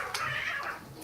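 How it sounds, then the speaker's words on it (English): Cats fighting outside a window, a strained, wailing yowl rising and falling through the second, fairly loud and unbroken, with no talk over it. "there's some cats fighting outside my window"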